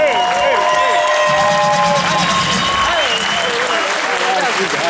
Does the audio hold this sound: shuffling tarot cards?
no